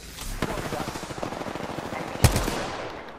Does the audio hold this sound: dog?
no